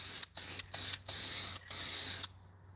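An aerosol can of clear coat sprays in four or five short hissing bursts separated by brief pauses, close and fairly loud, then stops.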